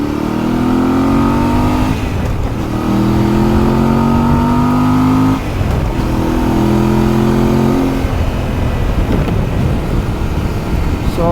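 Voge DS800X adventure motorcycle engine revving repeatedly, each pull rising in pitch then dropping between shifts, loud and close with no talk.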